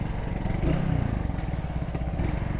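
A 200cc mutt-style classic motorcycle engine runs nearby with a steady low, rough chugging idle and slight revving.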